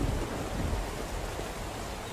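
Rain in the open-world prison survival game SCUM falls as a steady, dense hiss with a low rumbling undertone, constant and fairly loud with no voices.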